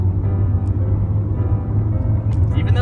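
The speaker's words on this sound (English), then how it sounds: "Climbs the revs nice and quick." The 2-liter engine of a 2004 Volkswagen Golf hums low and steady from inside the cabin while driving and climbing the revs, with a constant rumble throughout.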